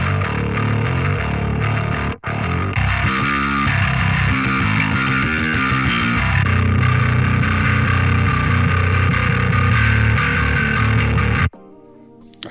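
Heavy, saturated bass guitar riffing through an amp simulator with thick distortion, low chugging notes and chords played continuously, then cutting off abruptly near the end.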